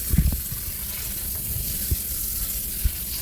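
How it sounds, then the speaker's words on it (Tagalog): Boiled lamb meat is rinsed under a running kitchen tap, a steady close hiss of flowing water with a few soft splashes and knocks, no talk. "Pagkatapos nating pakuluin, hugasan muna natin yung meat."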